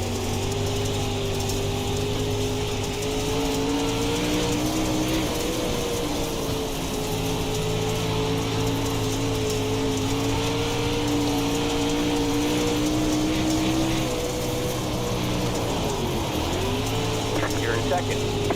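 Race car engines from the iRacing sim drone steadily at high revs, a continuous layered whine that dips briefly as cars lift, heard alone without voices.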